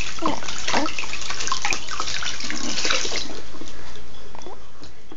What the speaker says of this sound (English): You rinse off your plate.